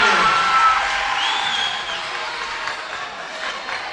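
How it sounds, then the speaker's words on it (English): High school boys' basketball championship crowd in a gym, a steady wash of cheering and whoops from the Chattooga fans that fades slightly over four seconds, with a brief rising whistle-like whoop in the middle. "The Chattooga crowd trying to inject some enthusiasm and momentum back into this one"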